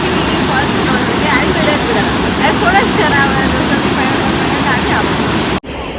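A waterfall in Munnar roars as a loud, constant wash of rushing water that fills the whole scene, with faint voices under it and a sudden short dropout just before the end.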